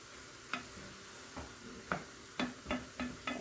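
A spoon scrapes and taps around a pan as garlic is stirred into spaghetti meat sauce, giving irregular clacks that quicken toward the end over a soft, steady sizzle.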